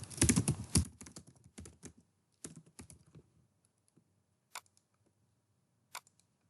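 Computer keyboard typing, a dense burst of rapid key clicks for the first second, then scattered keystrokes and a few isolated louder taps, close and clear with no talk.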